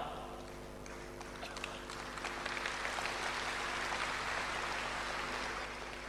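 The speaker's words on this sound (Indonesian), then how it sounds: "Mungkin sebagian mengerti, makanya tepuk tangan." An audience at a large church revival service in a stadium claps in sustained, even applause, mid-distance and moderately loud, swelling slightly toward the end over a low hum.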